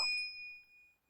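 A short notification bell dings once, a bright clear chime that rings out faintly and fades over about a second.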